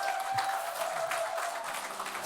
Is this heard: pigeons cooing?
no